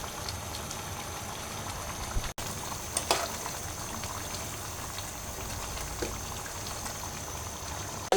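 A potato and lentil curry simmers with a steady bubbling hiss. Eggs are added partway through, and a brief soft plop and clink rise from the pot at close range with no talking.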